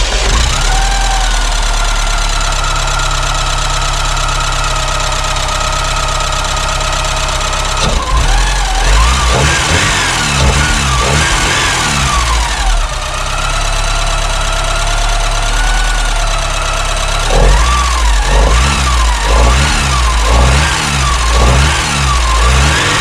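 A Porsche 944 engine runs loud and close throughout, with a steady idle hum broken by several rounds of rhythmic revving that rise and fall, then settles back to an even idle.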